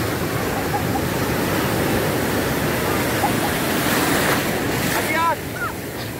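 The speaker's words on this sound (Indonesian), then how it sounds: "Ombaknya semakin besar soalnya" Ocean surf at a beginner surfing spot with growing waves: a loud, constant wash of breaking water mixed with wind buffeting the microphone, with faint distant bird chirps near the end.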